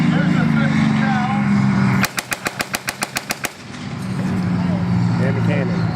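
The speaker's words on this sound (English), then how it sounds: "Here's a 50 cal." .50 caliber machine gun on a tank firing one rapid burst of about ten sharp, loud shots at close range, set between stretches of people talking.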